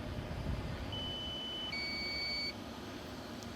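Low battery alarm on a DJI Matrice 300 drone controller: a few sustained electronic beep tones, one held and then a higher pair overlapping, fairly clear over a quiet hum.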